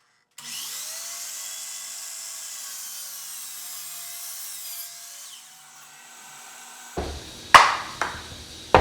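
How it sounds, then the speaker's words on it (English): A power saw cutting pieces of a wooden board for a fireplace mantel, a steady whining buzz for several seconds that winds down, followed by a few sharp knocks and clatters of wood nearby. "So now I can cut all my pieces in one shot out of one board."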